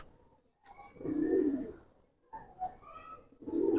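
A pair of pigeons coo softly up close in a few short, low, throaty bursts separated by brief pauses.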